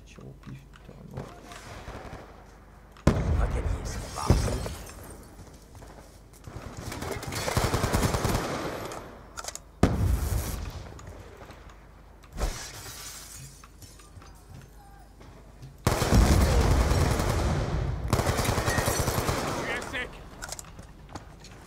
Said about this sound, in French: je tire au pif littéralement.